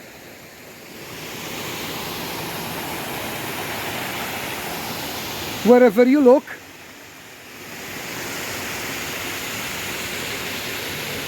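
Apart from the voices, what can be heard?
water flowing from many waterfalls in a park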